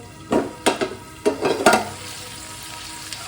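Chicken masala sizzles in a pan, with bursts of stirring and scraping in clusters over a low steady hiss, then dies back to a quiet frying murmur.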